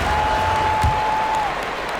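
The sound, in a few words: crowd applauding after a dunk in NBA 2K26 video game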